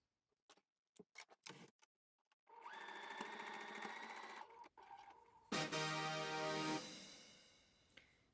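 A sewing machine stitches a garment side seam with a 1.5 cm seam allowance, running in two steady close bursts of rapid mechanical whirring, preceded by a few light clicks and handling taps.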